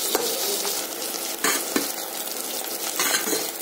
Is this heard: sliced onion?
yes